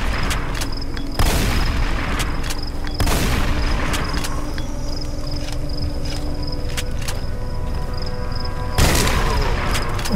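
Explosions in the horror game Them and Us, three sharp booming bursts spaced several seconds apart, each standing out loudly over a constant background drone.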